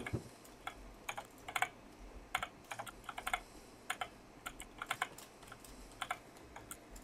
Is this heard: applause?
no